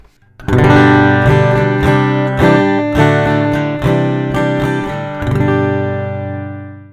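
Bright Fender Acoustasonic Jazzmaster guitar on its acoustic setting, picked note by note in a flowing fingerpicking pattern, ringing chords with clear plucked attacks, played close and loud.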